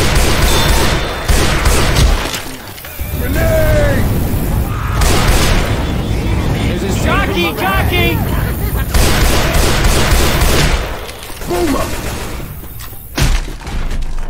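Gunfire from Left 4 Dead 2 bursts out in repeated booms and shots across the Dark Carnival campaign, loud and choppy, mixed with game effects and voices talking over it.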